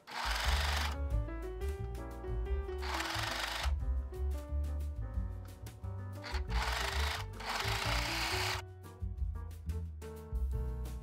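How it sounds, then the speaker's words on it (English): A sewing machine stitches a narrow fabric strip onto garment shoulder seams, running steadily in sustained bursts with brief pauses, alongside tonal background music throughout. "I sew it with shoulder seams to stabilize those seams."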